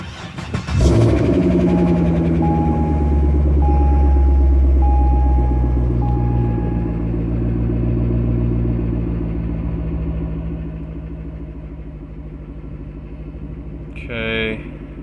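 A 2006 Corvette with an LT3 engine cranks and fires up, then settles into a steady low idle rumble close by, with a chime beeping early on and a brief clatter near the end.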